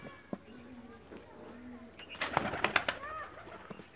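Sialkoti pigeons cooing, soft low coos early on, then a burst of louder bird calls and fluttering near the end, with faint background noise.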